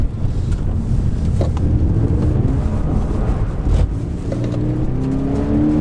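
A 2013 Toyota GT86 sliding sideways around a corner, its engine a loud steady drone with shifting pitch under heavy wind buffeting, close and continuous without talk.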